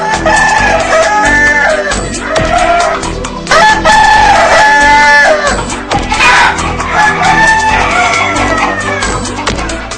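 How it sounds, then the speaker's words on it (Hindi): Kadaknath roosters crow loudly and repeatedly in long, drawn-out calls that overlap one another, with clucking and general poultry noise around them. "लंबी बांग लगाते कड़कनाथ,"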